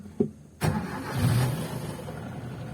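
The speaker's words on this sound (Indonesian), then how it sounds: "Oke, tak nyalake mesinnya ya" A 1985 Toyota Kijang engine cranks with a brief starter click, then catches and settles into a steady, moderately quiet idle, heard up close with no talking.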